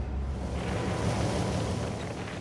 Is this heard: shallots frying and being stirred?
no